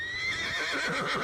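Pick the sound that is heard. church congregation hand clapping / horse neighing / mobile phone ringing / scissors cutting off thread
horse neighing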